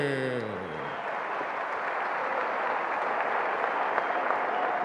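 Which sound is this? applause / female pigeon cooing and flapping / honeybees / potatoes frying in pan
applause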